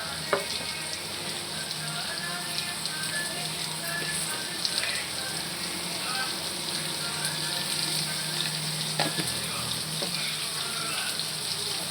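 Capsicum, bean and onion pieces sizzle in a pan after salt is added, a steady, close frying hiss that runs unbroken throughout, with a few faint clinks and no talking.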